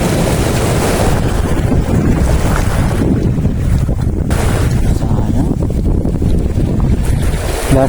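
Strong wind on a fishing shore at Real, Quezon, in the Philippines buffets the microphone in a constant loud roar, with water churning underneath and no clear voices.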